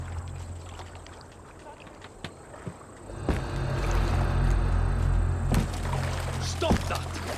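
Oars work a boat through water in the AC Valhalla video game, a steady wash of sloshing and splashing strokes that swells louder midway, with game music and a voice speaking over it.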